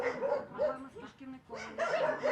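A shepherd dog at an animal shelter in Lviv barks and yips several times in short bursts, fairly close, with a gap in the middle, and a voice talking underneath.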